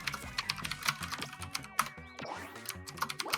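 Quick typing on a computer keyboard, dense irregular clicks and key taps at close range, with no voices over them.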